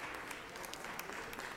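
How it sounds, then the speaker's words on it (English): Audience applause in a state senate chamber for fraternity members standing in the balcony, a steady, fairly quiet wash of clapping throughout. "Join me in applauding them."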